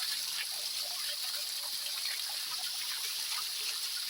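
Strong water flows during the rainy season in a continuous, bright rushing hiss with fine splashing texture, close and steady without pause.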